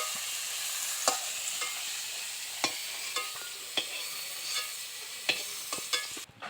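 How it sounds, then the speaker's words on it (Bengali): Fried cauliflower pieces being lifted out of hot oil in a wok, a steady broadband sizzle throughout, punctuated every second or so by sharp metallic scrapes and clinks of the spoon against the pan, close and fairly loud, with no talking. "এখন ফুলকপিগুলোকে তুলে নিচ্ছি।"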